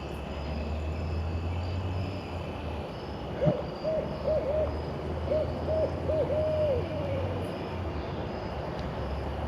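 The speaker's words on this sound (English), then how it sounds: "There's an owl over here." An owl hoots in a run of short, mid-pitched calls, faint and somewhat distant in urban woods, set against a constant low hum of city traffic and a passing aircraft.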